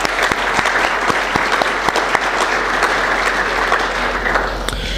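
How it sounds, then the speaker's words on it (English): An audience claps steadily at a Fedora Flock 2018 conference keynote after the sponsors are named, a dense, sustained round of applause with sharp individual claps standing out, no speech over it. "So if I can get a round of applause for them."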